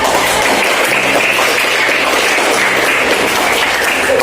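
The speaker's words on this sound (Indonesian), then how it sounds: "Baiklah, tepuk tangan dulu kita." Students in a classroom clap together in a loud, continuous burst of applause, close and even throughout with no talk over it.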